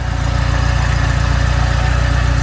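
A 440-swapped Dodge Dart Swinger engine runs in first gear with a steady, close, throbbing mechanical drone that holds without letup.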